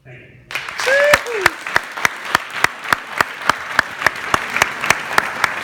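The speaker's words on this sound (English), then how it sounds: "give a round of applause for all of our facilitators" A stadium audience at a men's summit breaks into loud applause after a speech. The clapping swells to a dense, steady roar after a short quiet start, and a brief whoop rises at the beginning.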